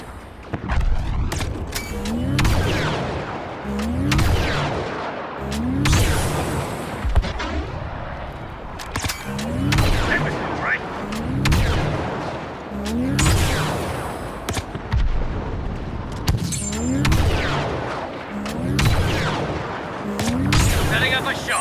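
Star Wars Battlefront II battle on Geonosis: repeated heavy booms and blaster-like gunfire bursts arrive in regular waves, loud and dense, with scattered sharp shots between explosions.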